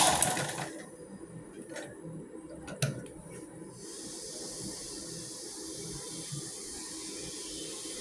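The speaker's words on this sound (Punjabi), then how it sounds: "ਆਪਾਂ ਹੁਣ ਸਲਾਈ ਲਗਾਣੀ ਜੀ ਬਹੁਤ ਸਫਾਈ ਨਾਲ ਸਲਾਈ ਲਗਾਣੀ ਹੈ" A sewing machine stitches around the neckline of an A-line kurti. It makes a faint, steady whirring hum after a few sharp clicks at the start.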